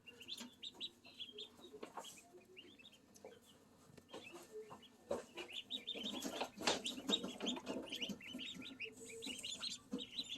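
High, thin peeping from a cluster of newly hatched ducklings, constant and overlapping, close by and fairly soft, with a few louder bursts.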